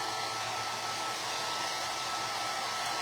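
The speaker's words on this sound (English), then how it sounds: "I'm just gonna speed it up with my hair dryer." A hair dryer blows steadily at close range to dry chalk paint, a loud continuous whooshing hiss with no pauses and no voices.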